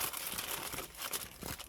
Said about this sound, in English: I'm just gonna cover it with a foil.